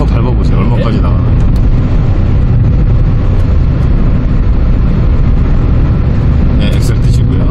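A Kia Morning city car fitted with a new tuned exhaust accelerates hard, its engine droning loudly and continuously as someone talks over it.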